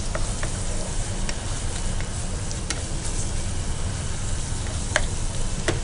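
Masala of onion and tomato fries in a pan for a country chicken dish, with a continuous close sizzle and occasional sharp clicks of stirring against the pan, with no talking over it.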